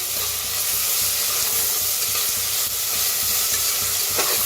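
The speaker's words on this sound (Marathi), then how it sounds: "छान भाजून हलवत छान भाजून घ्यायचं" Jackfruit with green chili and garlic roasts in a pan with a steady, close sizzling hiss, and brief scraping sounds come through as it is stirred. No one speaks.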